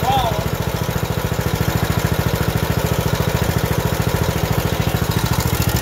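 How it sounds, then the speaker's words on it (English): A small Briggs & Stratton engine with loose valve lash idles close by with a rapid, steady valve ticking that repeats evenly throughout. "That loud ticking noise is coming right here."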